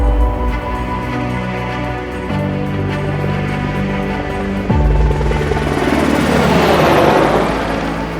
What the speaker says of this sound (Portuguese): embarca aqui no nosso helicóptero e vamos junto para esse maravilhoso voo